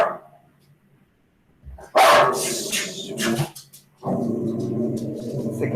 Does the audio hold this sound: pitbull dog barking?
yes